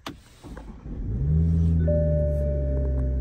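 Toyota Supra (2024, manual) idling then pulling away in city traffic, a low engine rumble building steadily with a faint rising tone on top, near and fairly loud, no talking.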